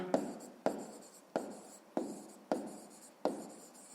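Pen strokes scratching on paper while a fifth-grade math exercise is written out, six distinct strokes at a steady rhythm, close and fairly quiet.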